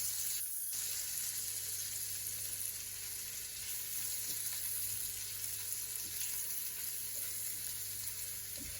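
Lobster tossed with chili flakes in a frying pan, producing a steady, quiet sizzle with a few faint stirring scrapes, close but low in level and without speech.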